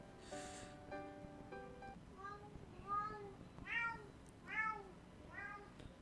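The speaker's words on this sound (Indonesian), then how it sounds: "Ih, kucing gue berisik bet." A cat meows several times in a row, drawn-out and fairly close, over quiet background; a faint voice-like sound opens the clip.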